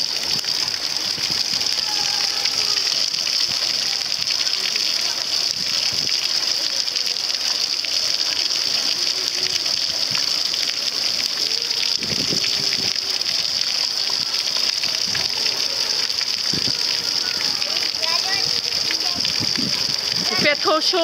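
Water gushes steadily outdoors after a picnic in Guingamp, a continuous loud hissing rush with occasional splashes, while people talk over it.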